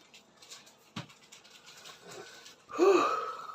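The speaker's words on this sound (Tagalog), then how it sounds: "Sino yung monkey hinihingal?" A monkey pants in short, breathy bursts close by, ending in a louder, sustained wheezing breath.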